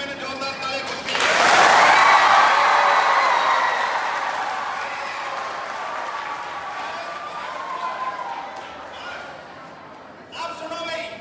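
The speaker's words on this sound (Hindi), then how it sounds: "जोरदार ताली बजती है" A roomful of children claps loudly together, a dense wash of applause that swells quickly, holds and slowly fades, with a scattered second burst near the end.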